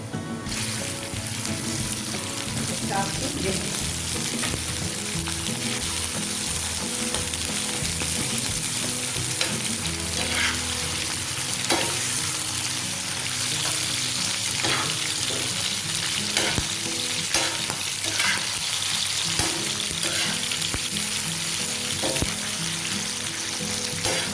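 Chicken liver frying with golden onions in a pan gives a continuous loud sizzle with occasional stirring scrapes and clinks throughout, close up.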